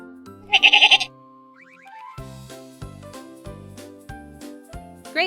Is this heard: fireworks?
no